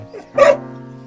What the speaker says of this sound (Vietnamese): mình ở chỗ này cái con chó trên này nó cứ sủa suốt